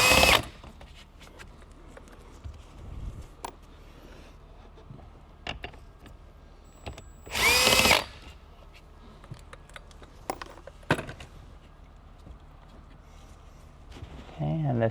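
A power tool backs out the two 10mm bolts holding the top speaker in a 2024 Toyota Land Cruiser, with short whirring bursts, one longer and louder run midway, among small clicks and quiet handling noise.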